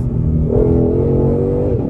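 A 770-horsepower Ford Mustang Shelby GT500 engine accelerating hard on a circuit, a loud, steady, close-up roar whose pitch climbs smoothly as the revs build, heard alone with no talking.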